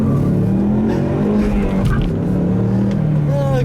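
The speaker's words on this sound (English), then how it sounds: "I'll leave you guys with a nice little acceleration here" A Ford Mustang with updated springs accelerates hard in traffic, its engine note loud and close and rising steadily in pitch under a continuous roar, with some tire noise.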